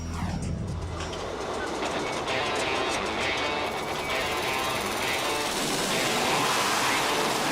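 A Harrier jet takes off from a warship's ski-jump deck: a broad, loud roar that swells midway and keeps building, with a voice talking over it.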